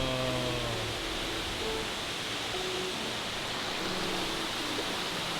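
A tall waterfall on Maui, Hawaii, roars as a steady, dense wash of falling water, close and continuous throughout with no talking over it.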